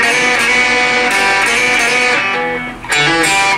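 Acoustic-style guitar plays a short country lick, a hammer-on in the D resolving to an open G, with sustained ringing notes and a few plucked attacks, loud and close with no talking.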